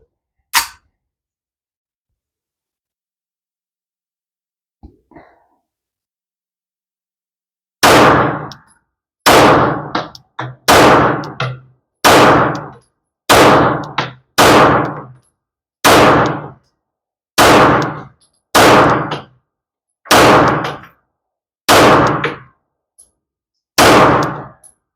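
A Rock Island Armory M1911 A2 pistol fires a long series of sharp, loud shots outdoors, one early shot then about a dozen evenly spaced reports after a pause, each ringing briefly.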